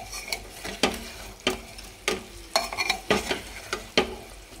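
Meat and potatoes fry in oil in a pressure cooker as a spoon stirs them. Repeated scraping clanks against the metal pot rise over a low sizzle at a steady, uneven pace; no one speaks.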